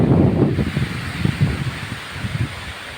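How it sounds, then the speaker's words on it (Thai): A storm with strong wind driving heavy rain, a loud, continuous rushing roar with gusty low buffeting against the microphone, heard alone without speech. "ลมก็แรงฝนก็สาดนะครับผม"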